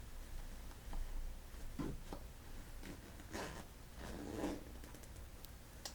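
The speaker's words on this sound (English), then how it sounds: "and these zippers here." Zippers on an old pair of khaki pants with a stretchy, crunchy lining are handled up close, giving soft scattered zips and fabric rustles, quiet and intimate with no talking.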